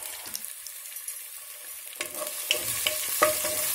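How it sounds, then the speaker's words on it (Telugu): Garlic, ginger, green chilies and spring onions stirred in a pan for Andhra-style garlic chicken curry, quiet at first, then sizzling with spoon scrapes and taps in the second half. "అల్లం, పచ్చిమిరపకాయలు, స్ప్రింగ్ ఆనియన్స్ అన్నీ వేసుకొని ఒక్కసారి మిక్స్"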